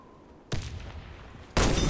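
Two loud, booming sniper rifle shots in the PS4 shooter game Warface, about a second apart, each with a lingering tail, heard alone without talking.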